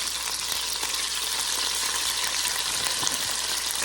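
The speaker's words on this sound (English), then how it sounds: "But it is sizzling." Loud, steady sizzling of beef frying in an Instant Pot, a dense hiss with faint crackles and no voices.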